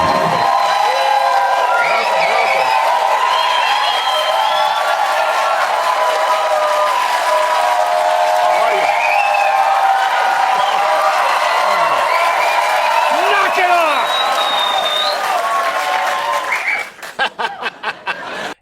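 A late night TV studio audience erupts in cheering and applause for a celebrity guest, a loud continuous roar of clapping mixed with whoops and shouts that holds steady before cutting off abruptly.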